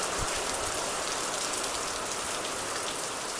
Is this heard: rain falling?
yes